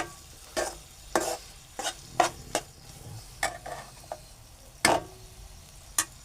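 Onion and coconut masala with salt being stir-fried in oil in a pan, a soft sizzle broken by irregular sharp scrapes and taps of a spatula against the pan, close and alone.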